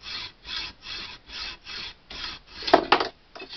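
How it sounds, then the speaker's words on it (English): Sawing through the end of a shotgun barrel: steady back-and-forth saw strokes, close and loud, about seven even passes, then quicker, rougher strokes with a sharp scrape near the end. "make sure you saw all the way through"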